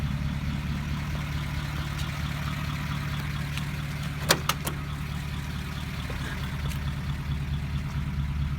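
A 1953 Pontiac Chieftain engine idles steadily with a low, even hum throughout, broken by a few sharp clicks or taps near the middle.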